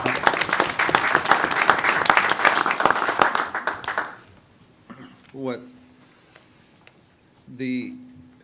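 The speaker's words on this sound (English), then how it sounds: "Give her a round of applause" Attendees at a village board meeting break into loud applause for a colleague, sustained for about four seconds before fading, followed by a few brief spoken voices.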